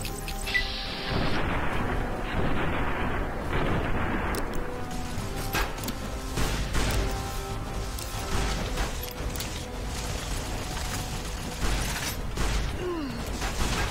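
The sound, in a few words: gunfire in the video game Fallout New Vegas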